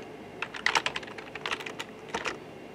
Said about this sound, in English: And then on the search, I'm going to type in